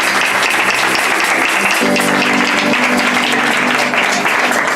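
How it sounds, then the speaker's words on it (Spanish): A church congregation applauding loudly in a welcome, a dense steady wash of clapping that runs the whole time, with a sustained tonal hum or music layered in partway through. "los recibimos con un fuerte aplauso"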